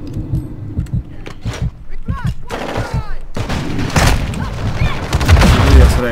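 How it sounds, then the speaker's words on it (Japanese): A Call of Duty: Modern Warfare 2 match bursts with repeated loud gunfire and explosive booms, including a flashbang, over busy game noise, with a voice talking and reacting throughout. "フラッシュバンはずるい。"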